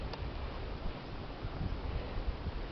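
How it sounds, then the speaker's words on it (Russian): Wind blowing across the microphone at an apiary among bending birch trees, a constant rough rushing roar with slight gusting swells and no voices. "Пошел ветер."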